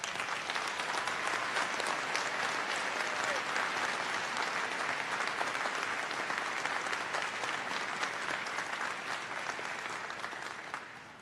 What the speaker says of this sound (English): Let's give this group a supportive round of applause.